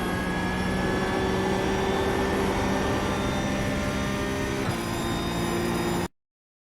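A Porsche 992 GT3 Cup racer at full throttle around Watkins Glen in iRacing, a steady, loud, high-pitched engine drone with a slight shift in tone near the end before cutting off abruptly.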